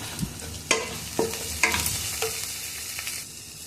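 Spices for chana masala frying in oil, a soft continuous sizzle punctuated by several sharp spatula knocks and scrapes against the pan, without speech.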